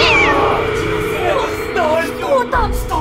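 A cat meows several times in quick succession, loud and close, with rising and falling cries over a low rumbling background, while a voice is also heard.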